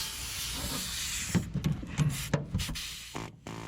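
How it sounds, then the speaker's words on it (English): An air chisel works on a stubborn, rusty leaf spring shackle on a Chevy, with a steady hiss of air giving way to several short, sharp bursts of hammering close to the mic. "So hopefully you can crack it free with the air chisel."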